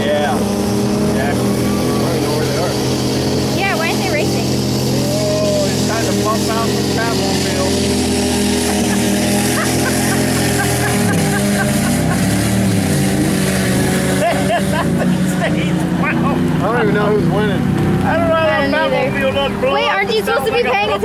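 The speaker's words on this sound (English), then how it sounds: "that's a V6 with front wheel drive with tractor tires" A V6 front-wheel-drive car on tractor tires revs in mud at a mud bog event, the engine roaring and laboring continuously, rising and falling in pitch, with people talking and shouting over it.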